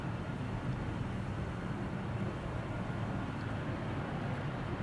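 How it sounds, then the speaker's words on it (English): A China Southern Cargo Boeing 777 freighter departs Amsterdam Schiphol, heard as a constant, broad jet roar at a moderate distance with no breaks. "It's a Boeing 777 freighter."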